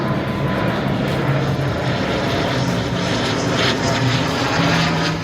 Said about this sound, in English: This means that you'll definitely hear planes over your home.